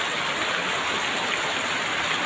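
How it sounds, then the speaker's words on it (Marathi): Heavy rain pours down steadily with rivers and streams flowing, a dense and unbroken hiss of water that holds the same loudness throughout. "नदी नाल्या वाहत आहेत खरीप पिकासाठी हा पाउस योग्य मानला जता"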